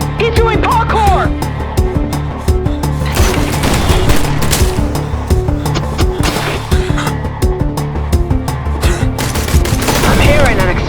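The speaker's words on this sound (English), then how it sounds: "He has an assault rifle!" Assault rifle gunfire in a video game, loud sustained bursts of rapid shots layered over music and effects that run throughout, with a voice speaking partway through.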